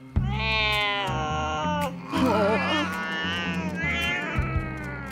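Cartoon junk cats meow and caterwaul in a long run of drawn-out, wavering cries, loud and close, with a steady low musical bed underneath.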